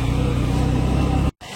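A vehicle climbing the steep road up Mandaragiri Hill in Angul labours with a loud, steady engine drone, cut off abruptly near the end before resuming.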